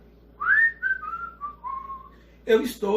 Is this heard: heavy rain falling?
no